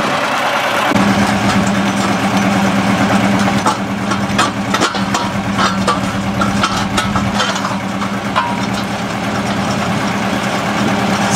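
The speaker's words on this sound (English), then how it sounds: "So how far will the auger be able to go down in all this rock?" Engine-powered auger running steadily while drilling a test hole into rocky ground beside a camper, a continuous loud mechanical drone with a low hum and scattered rattling and knocking over roughly eleven seconds, no talk.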